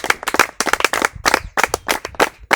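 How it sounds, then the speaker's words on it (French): A group of children clap together in a quick, uneven burst, the dense claps close and loud throughout with no pauses. "Est-ce qu'on peut s'applaudir ensemble?"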